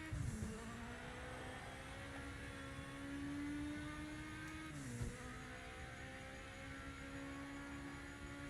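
Race car in the Project Motor Racing video game with its turbos spooling up, a steady droning engine whine under a faint background hiss, with a brief surge around the middle.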